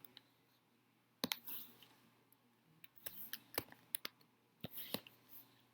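Typing on a computer keyboard: a handful of quiet, irregular key clicks spaced across a near-silent room.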